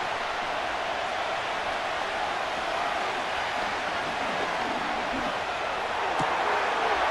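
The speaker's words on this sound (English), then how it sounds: "The crowd cranking it up another notch before 3rd and long." A stadium crowd roars in a steady, dense wash of cheering in the Madden 26 football video game, Browns vs Ravens, building before a third-and-long play with no pauses.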